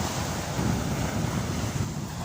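Ocean surf washing steadily onto a North Norfolk beach at Great Yarmouth, a continuous broadband wash mixed with wind rumble on the microphone, no voices.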